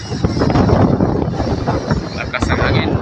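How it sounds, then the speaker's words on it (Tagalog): Strong wind by the sea buffets the microphone in a dense, roaring rush with crashing waves beneath, loud and constant, with no clear voices over it. "Lakas ang hangin."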